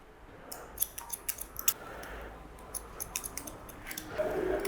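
Scissors snip through medium-length wavy, curly hair during a haircut, a quick run of crisp close snips followed by a second, looser series, quiet and with no talking.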